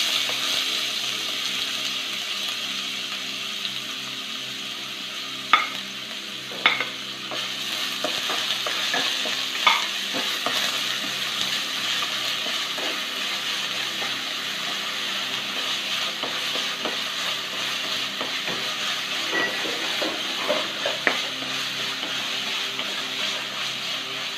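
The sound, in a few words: sautéing finely chopped onion in a pan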